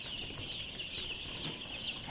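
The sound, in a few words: white layer chicken chicks on farm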